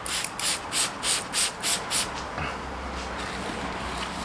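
Fine 2000 grit sandpaper rubbed across a car bumper in about seven even back-and-forth strokes, close and moderately loud, then giving way to steady low background noise with no talk.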